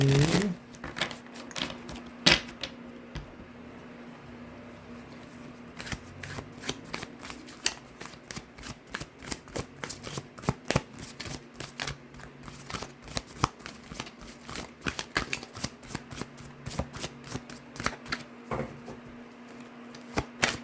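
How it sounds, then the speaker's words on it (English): Tarot cards being shuffled, a dense run of quick papery riffles and flicks repeating steadily and close by, with a faint constant hum underneath and no talking. "I'm going to go ahead and pull some tarot cards for you."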